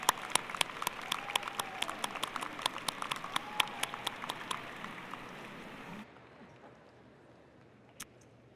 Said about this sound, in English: applaud tonight's audience for all of their support